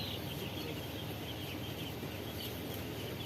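A dense chorus of many broiler chickens clucking and chirping inside a poultry house, steady and continuous over a constant mechanical hum of cooling equipment.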